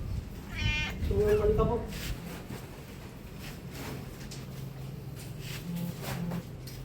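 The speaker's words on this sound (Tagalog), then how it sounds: "i-move nyo muna yung pusa" A cat meows close by in a home: a short run of drawn-out, rising and falling cries early on, while people talk over it and then keep chatting.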